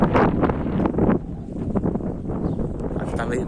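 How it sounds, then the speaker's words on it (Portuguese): Strong wind near a fire close to a town in the Ipiranga community buffets the microphone in a continuous roar and gusts, with a voice faintly beneath. "Acho que tá ventando bastante."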